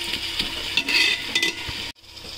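Mint and coriander leaves frying in a pan for chicken pulao give a bright, close sizzle broken by a few stirring scrapes and clinks, then an abrupt brief drop before the hiss resumes.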